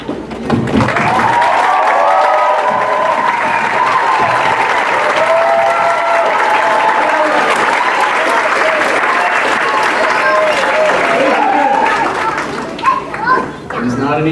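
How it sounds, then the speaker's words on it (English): A high school concert audience gives graduating band seniors a loud, sustained round of clapping and cheering that holds steady for over ten seconds before tapering off, with some crowd chatter mixed in. "We're gonna go ahead and have them stand up for one more applause."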